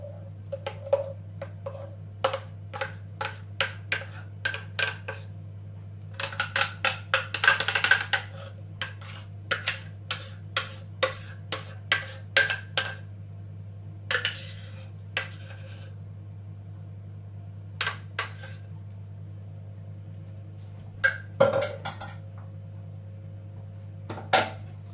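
A metal spoon clinks and scrapes repeatedly as blended hummus is scooped out of a blender with a ribbed interior into a storage container. Irregular close taps and clatters sound over a steady low hum, with no talking.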